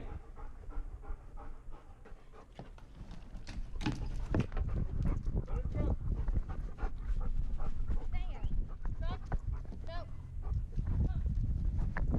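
A dog pants steadily and rapidly up close, with a busy, noisy background and some voices mixed in throughout.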